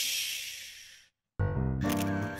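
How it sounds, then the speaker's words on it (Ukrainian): A cartoon camera fires its shutter with a bright burst of electronic noise that fades, then cuts to a short silence before a loud musical sting starts. "Фотоапарат."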